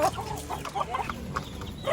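Backyard pet chickens and roosters, kept by a family in the Philippines, cluck in short repeated bursts close by, several birds overlapping in an uneven chatter with no talk.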